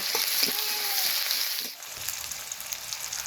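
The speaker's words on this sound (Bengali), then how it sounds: "পেঁয়াজটা কিছুটা লাল লাল করে ভেজে নেব" Chopped onions fry in hot oil in a pan for a vegetable and whole tilapia dish, a close, dense sizzle with a few stirring taps, easing slightly in loudness partway through and continuing steadily.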